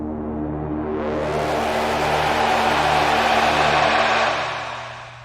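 A single sustained monosynth note with a rich buzzy tone that swells brighter as the filter opens, then fades out smoothly with reverb at the end.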